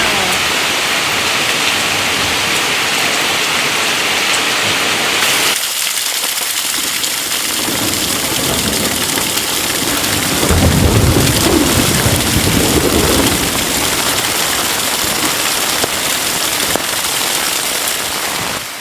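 Heavy rain pours down a street in a dense, rushing roar, with water flooding, splashing and gushing throughout, loud and constant.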